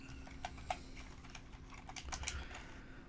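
Soft, sparse keystrokes on a computer keyboard while typing text into a WordPress editor. The clicks are irregular and faint over a quiet room hum.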